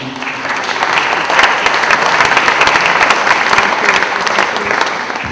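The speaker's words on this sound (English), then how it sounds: "you can clap it up for them" Loud, dense audience applause at a Frederick Douglass speech reading, a crowd clapping steadily for the Burnham family with no voices above it.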